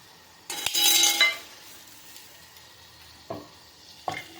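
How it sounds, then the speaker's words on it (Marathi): Mushrooms fry in a pan, with a loud burst of sizzling as they are stirred, then a quieter simmering hiss broken by a couple of short scrapes and clinks of the spoon against the pan. "आता हे छानपैकी फ्राय होत आहे."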